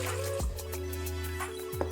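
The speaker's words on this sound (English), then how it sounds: "we're gonna start off by adding 1 cup of water to our mixer" One cup of water pours steadily into a mixer bowl for cake batter, a close, continuous liquid stream with a faint drip and trickle and no talk.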